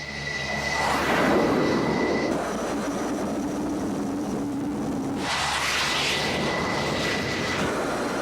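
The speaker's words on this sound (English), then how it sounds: "The lead aircraft will be flying ACLS tonight." An F-14 Tomcat jet flying at night over a naval missile range, a loud sustained engine roar that swells, eases and rises again, with a faint high whine on top.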